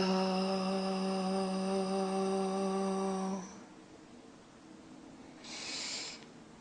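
A single voice holds a long, steady exhaled tone "tho" with the tongue between the teeth, a buzzing hum for about three seconds, then a breathy exhale and a brief soft hiss.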